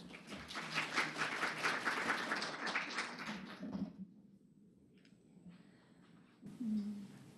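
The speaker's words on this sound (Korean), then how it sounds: "큰 박수로 청해 주시기 바라겠습니다" Audience applause at a marketing seminar before a talk on metadata-based keyword targeting, a dense round of clapping that fades away after a few seconds, leaving quiet room tone and a brief sound near the end.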